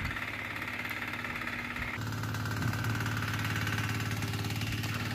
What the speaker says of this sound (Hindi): छोटा सा जो ना इंजन है